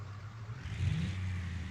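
A modded Gavril diesel truck engine in BeamNG.Drive rises from a low hum into a brief rev, a close, mid-pitched whirring drone that swells and holds, with no talking.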